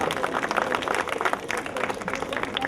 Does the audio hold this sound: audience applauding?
yes